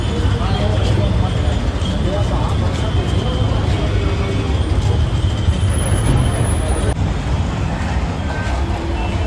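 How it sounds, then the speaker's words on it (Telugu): Mumbai city bus number 392 bound for Dr. Datta Samant Chowk, its loud engine rumble and dense street traffic noise continuous throughout, with people talking over it and a high whine briefly appearing. "ఈ బస్సు 392 దత్తా సామంత్ చౌక్ వెళ్తుంది"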